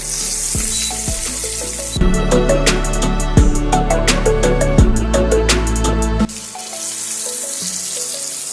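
Marinated koi fish frying in a pan, a loud, close, dense crackling sizzle that swells in the middle with sharp spattering pops before settling to a softer hiss.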